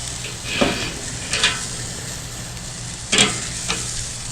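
Denver steaks sizzle on a grill grate after being flipped during a reverse sear, giving a steady broadband hiss with a few sharp bursts of crackle and clatter spaced through the moment.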